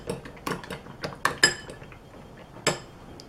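Metal utensil clinking against a bowl while frozen, uncooked shrimp is mixed into whisked egg for an omelette sandwich, a few scattered light taps and clinks up close with no talking.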